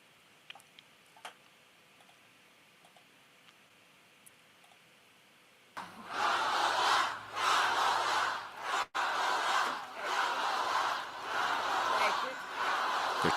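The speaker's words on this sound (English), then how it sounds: "They're chanting Kamala." Large political rally crowd chanting "Kamala" in loud rhythmic bursts after a quiet stretch with faint ticking, the chant rising suddenly and pulsing steadily with a brief break midway.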